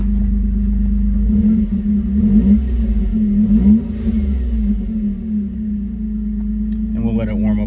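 A 1998 Suzuki Jimny with a K6A turbo engine and a welded-on aftermarket exhaust tip idles with a deep, steady drone and gets light blips of throttle, heard up close.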